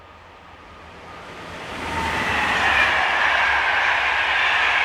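Electric locomotive 26072 hauling a Paris to Brive passenger train approaches on the French mainline, its roar and rail noise swelling steadily from moderate to loud and holding close by.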